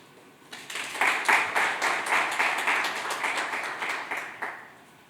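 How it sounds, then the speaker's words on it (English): Audience applause at a WCEF 2022 conference session after a keynote speech: a dense round of clapping swells in after a quiet moment, holds steady for about four seconds, then thins toward the end. "Let's give another round of applause for our keynote speakers"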